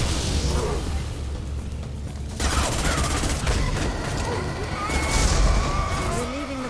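Explosions keep going off in the PC action RPG Mass Effect 2, rumbling bursts and crackling blasts stacked over steady combat noise, with a heavier boom near the end and a voice speaking through parts of it.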